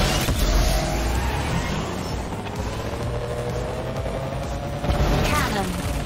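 A missile launches in the racing video game Phantom Race, its rushing whoosh swelling out of a dense, steady roar of engine and combat noise, with a second surge near the end.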